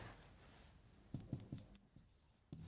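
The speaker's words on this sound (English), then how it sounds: "So I can write down" A pen scratches across paper in a few short, quiet strokes, with brief pauses between them and no talking.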